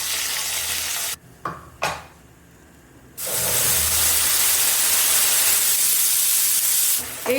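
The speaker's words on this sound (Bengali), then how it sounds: "এটাকে এবার ভালো করে কষাবো যত সময় না তেল ছেড়ে আসছে।" A spice paste for tel koi fish fries in hot oil, a loud, close sizzle and hiss that drops away briefly and then surges back strongly as it is stirred, with no talking.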